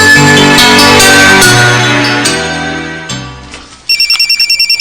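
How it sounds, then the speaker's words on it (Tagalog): A cellphone ringtone plays loudly and alone, a melodic phone tune that fades before switching to a rapid repeating electronic ring pattern, in a Filipino radio drama. "Ang cellphone ni Buddy."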